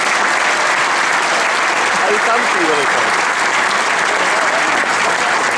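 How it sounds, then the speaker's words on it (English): Steady, dense clapping from spectators at a snooker championship in Sheffield continues without a break through the whole stretch, with people talking close by over it. "He just claps all the time."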